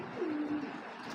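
A pigeon gives a single short, soft coo close by, with faint background hiss.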